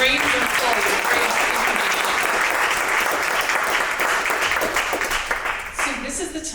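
Sustained audience applause at a tech meetup after a talk, dense steady clapping from a large crowd filling the room, easing slightly near the end.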